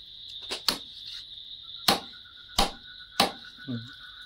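Knife chopping through duck meat along the backbone, several sharp separate chops with irregular gaps over a steady high insect-like hum in the background.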